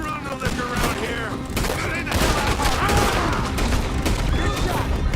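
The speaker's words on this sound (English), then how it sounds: "Hey, careful where you're shooting at." Gunfire in a Red Dead Redemption 2 shootout, a dense run of overlapping gunshots and booms crackling continuously, loud and close, with game sounds mixed in.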